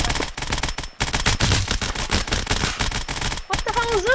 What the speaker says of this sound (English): I guess we're opening fire!